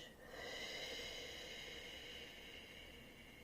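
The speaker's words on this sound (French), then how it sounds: "inspirez par le nez profondément en gonflant votre poitrine et votre ventre. Et soufflez doucement par la bouche" A slow, deep breath drawn audibly through the nose and let out gently through the mouth, a soft airy hiss that rises then fades, close and quiet.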